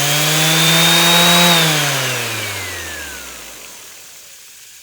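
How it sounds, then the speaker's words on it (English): A Festool ETS EC 125/3 EQ Plus random orbital sander whirs loudly and then winds down, its pitch falling steadily over a few seconds until it fades into near silence. "when this runs, this pad will spin down and take a few seconds to do that"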